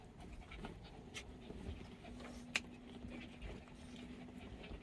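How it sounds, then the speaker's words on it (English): A dog pants inside an RV in quick, rhythmic breaths, close and fairly quiet, with a faint low hum and a brief sharp knock partway through. "This is the dog terrorizing the RV."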